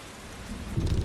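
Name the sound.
rain in the video game The Crew 2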